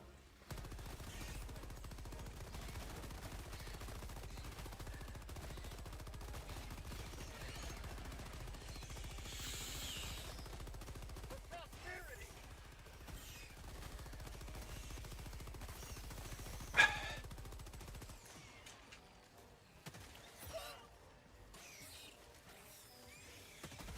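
Gunfire from the video game Helldivers 2, with rapid automatic bursts and scattered shots mixed into a rumbling battle soundscape, fairly quiet overall with one sharp louder crack near the end before the action thins out.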